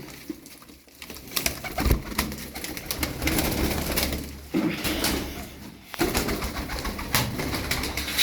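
Tumbler pigeons, show-performing roller birds, flap and clap their wings in quick bursts with soft cooing and cage rattles between, fairly close and busy throughout.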